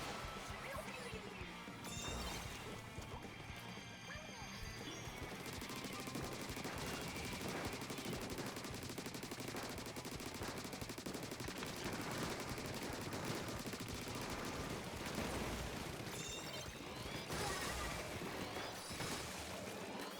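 Shooting in a Splatoon video game match, a dense continuous stream of rapid splattering shots and crashes under game music throughout.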